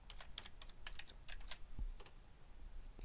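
Typing on a computer keyboard during spreadsheet work: a quiet run of quick, irregular key clicks, a clustered burst in the first half-second then scattered taps, close and alone without voices.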